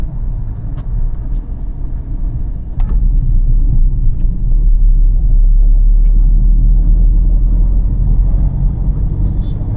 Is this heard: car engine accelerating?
yes